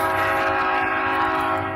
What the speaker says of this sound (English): That's a loud fucking train.